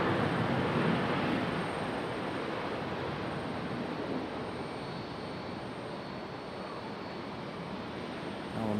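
American Airlines jet arriving from LAX at Raleigh-Durham in stormy weather, a steady broadband engine roar passing overhead, loudest at the start and easing slightly while holding fairly even, with no talk.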